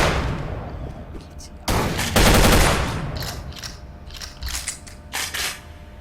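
Rifle gunfire in the video game Project Crypt: a dense burst of loud, close shots in the middle, preceded and followed by mechanical clatter and scattered smaller bangs.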